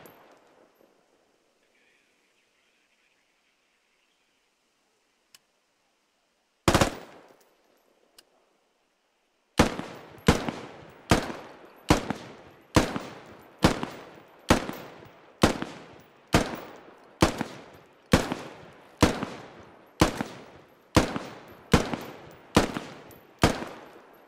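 An infantry rifle in the Squad video game fires one isolated loud shot, then after a pause a long string of evenly spaced single shots at roughly one-second intervals, each sharp and close with a short tail.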